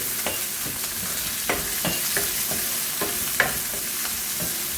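Sliced onions, two of them, sizzle and crackle steadily in a hot pan with oil for a Tamil-style kara chutney, with occasional stirring scrapes and small pops, close and continuous with no talk.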